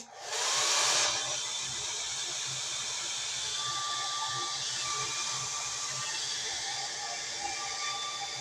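A hair dryer switches on loudly and blows hair dry, a strong airy roar that settles into a steady hiss with a faint whine for the rest of the time, no voices.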